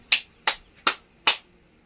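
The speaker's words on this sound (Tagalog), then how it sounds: "Bigyan natin siya ng tatlong palakpak" A class in a Filipino-language lesson claps in unison for a classmate, four crisp, sharp claps evenly spaced with quiet gaps between them.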